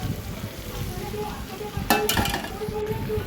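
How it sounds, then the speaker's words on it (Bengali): Mutton curry sizzles softly in a pan as it is sautéed and stirred, a constant low frying hiss with a brief burst of spatula scraping and clinks midway. "দেখো খুব ভালোভাবে মাংসটা কষানো হয়ে গেছে, কালারটাও খুব সুন্দর এসছে। আরও কিছুক্ষণ এভাবেই কষিয়ে নিতে হবে।"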